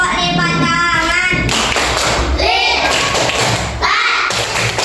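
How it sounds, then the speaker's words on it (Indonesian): Schoolchildren in a classroom clapping hands together in a rhythmic clapping chant, a dense wash of claps and thumps under loud, overlapping children's sing-song voices. "Tepuk lipat tangan."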